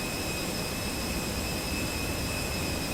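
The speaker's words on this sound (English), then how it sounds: "There we go, engine 1 starting up." An Airbus A321 jet engine spooling up in Microsoft Flight Simulator 2024, a steady, dense roar with a high whine held throughout.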